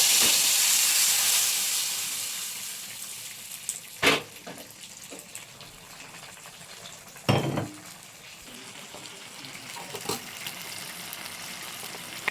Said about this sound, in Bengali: এটাকে এবারে আমি ফোড়নে দিয়ে দেবো এটা বেশ ভালো করে কষে নেব